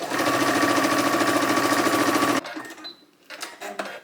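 Sewing machine stitching a blouse collar, a fast rhythmic mechanical whirr running loud and steady for over two seconds, then stopping abruptly, followed by faint handling clicks and rustles.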